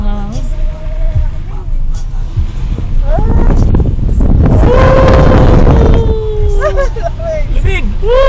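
Strong, cold wind roars into the microphone during a downhill ride at Malico, with people talking and exclaiming over the steady rush.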